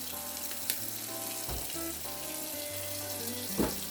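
Hot tap water runs into a sink with Dawn dish soap, a soft steady gush with faint clinks and a couple of small knocks, heard at low level with no talking.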